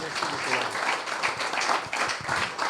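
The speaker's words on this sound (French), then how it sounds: "on peut l'applaudir chaleureusement" Warm applause from the audience at a talk on the history of anarchism, steady and fairly close, with voices mixing in under the clapping.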